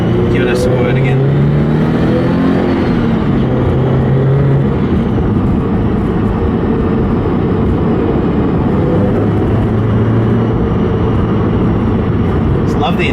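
A Kraftwerks supercharged Subaru BRZ accelerates on an open road, its loud engine drone and supercharger whine rising steadily inside the cabin and filling the whole stretch.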